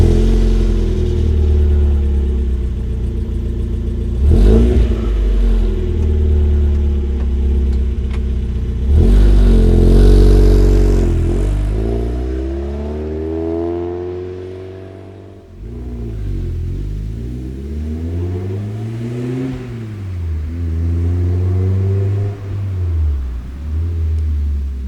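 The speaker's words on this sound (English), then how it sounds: "the exhaust is just a Flowmaster DBX muffler that I put on" A Japanese car with headers, an air intake and a Flowmaster DBX muffler revs hard several times, its exhaust note rising and falling in loud, close sweeps with a deep rumble between pulls.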